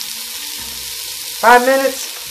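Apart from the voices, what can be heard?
onion and garlic sautéing in a pan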